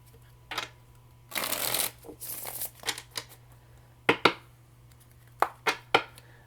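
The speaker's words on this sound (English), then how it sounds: "Do one more shuffle here." Tarot cards being shuffled in several bursts of riffling and tapping, close and crisp, with short pauses between.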